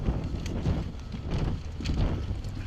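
Gusty wind buffeting outdoors at a groundbreaking ceremony in Fort Collins, a steady rough rumble with surging swells, loud and close against the microphone, no one talking.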